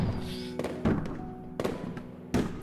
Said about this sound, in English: I didn't even know we could expect a fireworks show, but it's a nice end to cap the night.